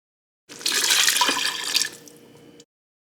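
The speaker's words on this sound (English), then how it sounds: "Now I'm just going to add the first cup of beef broth." Beef broth poured from a cup into a cooking pot for a weeknight macaroni dinner: a steady splashing liquid stream for about two seconds that thins to a lighter trickle before stopping, with no talking.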